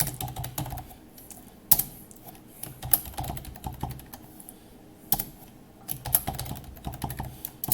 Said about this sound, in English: let's give Dean a password